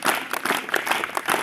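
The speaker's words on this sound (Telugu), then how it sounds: "చప్పట్లు కంటిన్యూ కొడుతూనే ఉంటారు." A crowd claps continuously at a Zilla Parishad high school event in Mujgi, Nirmal, welcoming guests to the stage, making a busy, even patter of many hands that persists without pause.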